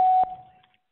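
A single steady electronic beep from an answering machine sounds loud and close for about a quarter second, then rings down and fades into silence.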